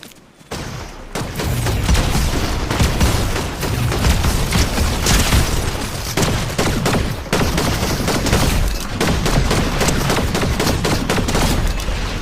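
Dense, continuous gunfire from the Fortnite video game, with rapid volleys and booming shots that barely let up, loud and close throughout.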